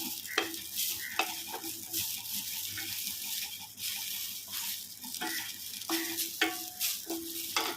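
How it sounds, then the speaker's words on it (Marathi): Fresh coriander with stems tossed into hot oil in a kadhai for katachi amti, stirred with a spatula: soft steady sizzle with repeated scraping strokes, close and fairly quiet. "आता आपण कोथिंबीर टाकून थोडीशी फ्राय करून घेऊया"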